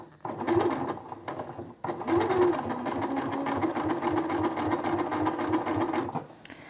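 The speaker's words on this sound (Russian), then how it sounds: "И начинаем строчить уже к середине." A sewing machine runs steadily, stitching a seam on a fabric zippered cosmetic organizer, with a short pause near two seconds before the motor resumes and hums on to the end.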